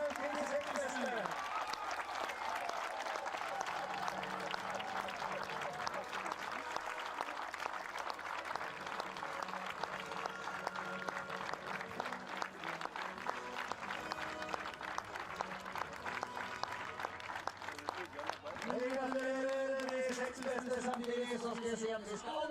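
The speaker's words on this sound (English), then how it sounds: "So, big round of applause for the sixth best in this exciting race today with Simen in yellow as the welcome leader" Spectators applaud at a FIS Rollerski World Cup interval race in Telemark, a broad, distant crowd clapping that runs for about twenty seconds under an announcer's amplified voice, with talk more prominent near the end.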